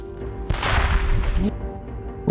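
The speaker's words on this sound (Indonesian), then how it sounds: "Dan kemudian terjadi ledakan." An explosion in war footage from the Ukrainian counteroffensive near a minefield: a sudden loud, broadband blast that roars for about a second, then cuts off to a quieter background.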